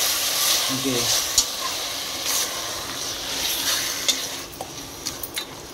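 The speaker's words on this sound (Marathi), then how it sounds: "कांदा चांगला परतून घ्यायचा" Onions being sautéed and stirred with mutton in a pressure cooker, a steady sizzling hiss with scattered utensil scrapes and clinks, close by, with a voice speaking over it.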